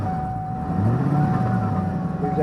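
A car engine fitted with a truck muffler found on the roadside idles and rises in a brief low rev, a muffled rumble heard close up.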